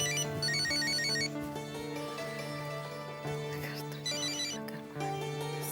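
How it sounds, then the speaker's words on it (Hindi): A telephone rings with a repeating electronic trilling pattern, several ring cycles at moderate volume, with no talk. "देखो, फोन की घंटी भी बज गई।"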